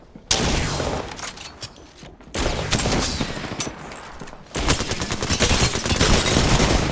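Rapid gunfire rattles in Apex Legends, loud close bursts of automatic fire in three dense stretches separated by short pauses.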